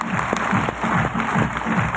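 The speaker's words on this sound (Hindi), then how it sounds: "एक बार जोरदार तालियां चाहूंगा स्लीपियस वेलनेस के लिए दोस्त" Audience applause for Slipius Wellness fills a hall, steady and fairly loud throughout, with a rhythmic low pulse running underneath the clapping.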